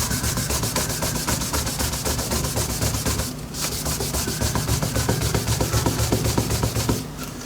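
Wax is rubbed briskly onto an engraved cast brass hammer, producing close, steady scraping strokes in a fast regular rhythm, with two brief pauses.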